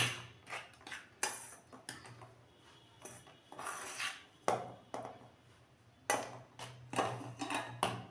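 A spoon mixes cornflour, salt, turmeric and chilli powder in a bowl, giving a run of close clinks and scrapes against the dish in uneven bursts.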